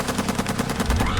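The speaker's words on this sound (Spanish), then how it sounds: "lanzando insultos entre ráfagas de disparos intermitentes" Rapid bursts of automatic gunfire from soldiers in a corridor firefight, a dense string of sharp repeated shots close and loud, running throughout the short stretch.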